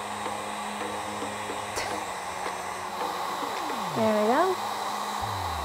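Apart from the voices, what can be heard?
heat gun shrinking heat shrink tubing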